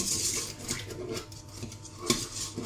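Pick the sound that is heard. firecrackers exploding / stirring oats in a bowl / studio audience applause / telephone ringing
stirring oats in a bowl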